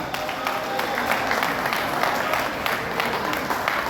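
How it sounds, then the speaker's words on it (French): Audience at a Labour Day celebration applauding in a dense, sustained burst of clapping with crowd murmur beneath, loud and steady throughout. "Est-ce que nous pouvons l'applaudir?"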